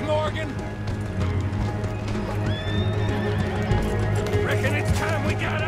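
Horses neighing and galloping in the Red Dead Redemption 2 video game, rapid hoof clip-clop with repeated whinnies, close and continuous, with voices speaking over it.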